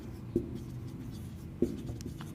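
Chalk or marker writing on a classroom board during a math lesson, a few brief tapping strokes against a quiet room background.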